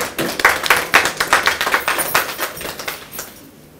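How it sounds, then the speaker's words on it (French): Scattered hand clapping from a small group of women at a workplace International Women's Day celebration, uneven and fairly close, thinning out and fading over a few seconds. "Je vous demande de vous applaudir vous-même."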